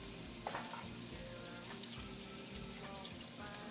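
Lamb and onions fry in a pot with a steady, close sizzle and crackle that runs throughout, with small pops and a few faint clinks of stirring.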